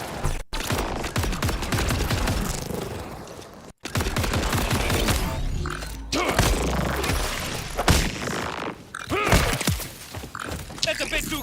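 Dense video-game gunfire from Borderlands 4, sustained bursts of shots, impacts and crunchy mechanical effects filling nearly the whole stretch with only a couple of brief gaps, loud and busy.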